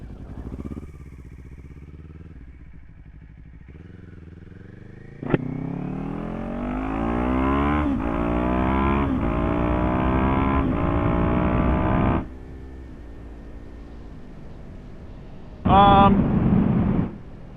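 A 2026 Kawasaki Ninja 500 motorcycle riding, its engine droning and rising through the revs with shifts between gears, a loud steady pass close by, then easing off before a brief sharp rev near the end.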